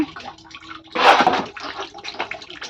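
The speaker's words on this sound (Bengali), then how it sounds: "এইমাত্র জল আসছে এখন ছটা বাজে তো বালতিটা বসানো আছে" Tap water pours into a bucket set under it in the evening, a close, steady gush that swells in the middle and then eases, with drips and splashing around it.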